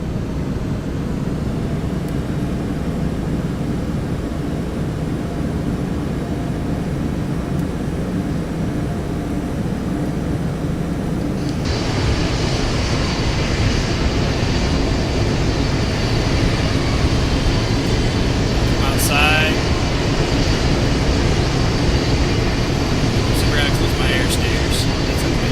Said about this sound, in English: I'm going to go ahead and turn up the throttle so you can hear it rev up.